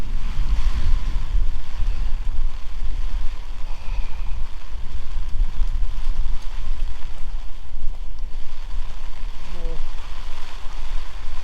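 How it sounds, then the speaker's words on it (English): Strong wind batters the microphone beside the flooded Brisbane River after ex-cyclone Alfred. A loud, steady roar with rumbling gusts runs throughout, and a faint short vocal sound comes near the end. "Oh, what fucking wind."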